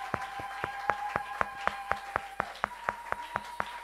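Church congregation claps in a steady, even rhythm, about four claps per second, with a faint sustained tone beneath; moderately close and steady throughout.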